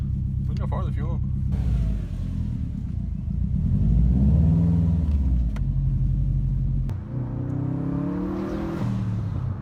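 A loud modified 2015-or-later Subaru WRX STI engine rumbles and revs from inside the car while driving, its deep drone rising and falling with acceleration, as people talk over it.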